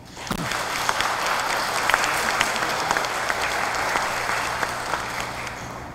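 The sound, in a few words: congregation applauding at a Mass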